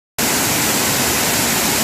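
Nhavankond waterfall in the Konkan region roars as a loud, steady broadband rush of falling water, starting abruptly and continuing unbroken, close by and with no voices.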